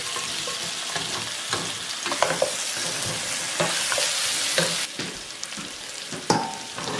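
Pre-cooked meat sizzles loudly in a hot pan with a constant bright frying hiss, broken by a few clinks and scrapes as it is stirred in.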